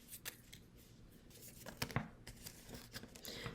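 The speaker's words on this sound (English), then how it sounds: "So I'm just using my scissors to cut over top of those pencil lines" Scissors snip through paper while a paper snowflake is cut along pencil lines, giving quiet, close crisp snips and rustles in a soft, irregular rhythm.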